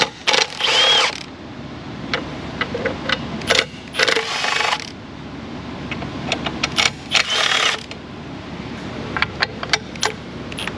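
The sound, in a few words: impact wrench with 3/8 socket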